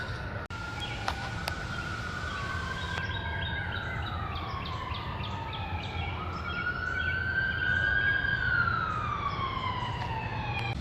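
Police car sirens wail through a residential neighborhood, rising and falling in long sweeping tones at moderate distance over steady background noise, with a few brief chirps near the start.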